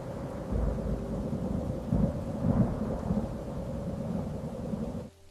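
A thunderstorm with rain: a heavy, steady downpour under deep rolling thunder that swells a few times before cutting off abruptly.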